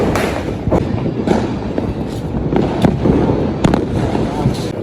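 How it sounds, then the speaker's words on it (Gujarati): Diwali fireworks in Surat, fountain and vijli crackers, burst and crackle loudly and close in a rapid, irregular series of sharp pops and booms over a dense, continuous sizzle. "ઝાડવું અને વીજળી બે કરવાનું છે."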